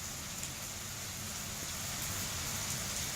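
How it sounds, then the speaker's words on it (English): Steady rain falling at the start of the rainy season, a continuous even hiss of drops on surfaces, moderately faint and alone with no talk. "Oh my god, the rainy season has started."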